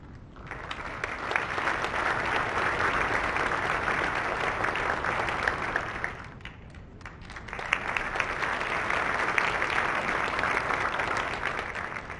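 Applause from an audience at a technical college entrepreneurial forum, loud and dense for about six seconds before briefly dipping and then swelling again into a second sustained burst of clapping.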